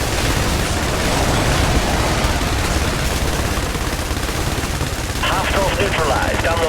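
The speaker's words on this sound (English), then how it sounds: "Taking enemy fire." Dense, continuous gunfire and explosions in the video game IS Defense, a loud, constant battle roar with rapid bursts throughout and a voice-like radio chatter near the end.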